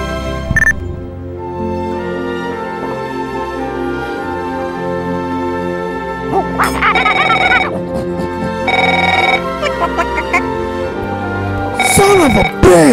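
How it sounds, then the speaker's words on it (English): Telephone ringing with loud, repeated electronic bell trills in bursts while a voice talks over and between the rings in a bar setting. "Answer the fucking phone already!"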